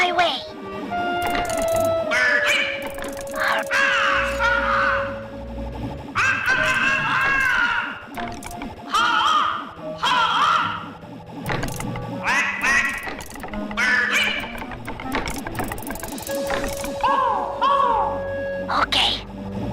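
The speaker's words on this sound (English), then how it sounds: "I'll make a bird call through the grapple cam." A repeated quacking bird call sounds through the grapple cam in the video game Sly 3, coming in several loud bursts among game music and effects, with no speech alongside.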